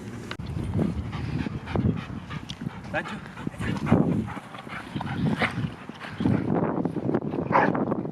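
Dogs bark and yip at moderate distance amid outdoor bustle at a dog park, with people talking throughout the scene.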